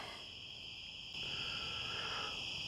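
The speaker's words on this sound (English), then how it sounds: "Everything's quiet except the crickets" Crickets chirping steadily outdoors at night at an abandoned insane asylum, a continuous high trilling chorus that swells slightly louder partway through, with no voices present.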